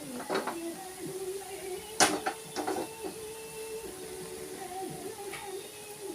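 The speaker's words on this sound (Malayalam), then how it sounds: "ചീനച്ചട്ടി എടുത്ത് വയ്ക്കാം." A cheenachatti wok being picked up and set down in a home kitchen, giving a few sharp metallic clanks and knocks, loudest around the middle, over quiet room tone with no talking.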